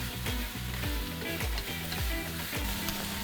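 Large chunks of pork and prawns fry in a hot pan with a loud, dense, steady sizzle, broken by regular clanking stirs of a utensil against the pan.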